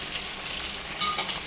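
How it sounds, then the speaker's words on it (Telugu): Chopped bottle gourd, okra, ivy gourd and carrot sizzle in hot oil tempering, a steady close frying hiss with a brief louder crackle near the end and no talking. "ఇవన్నీ ఆయిల్ తాలింపు వేసుకొని కలుపుకోవాలన్నమాట"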